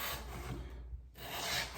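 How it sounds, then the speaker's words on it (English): A utility blade drawn along baseboard trim to trim wallpaper gives a steady close scraping rasp that pauses briefly midway, then resumes, with no talking. "I'm going to pull my blade incrementally so that I get clean cut"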